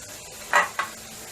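Chilies dropped into a hot pan for moong dal, giving two quick bursts of sizzle and metal-pan clatter, the first louder, then a quiet background.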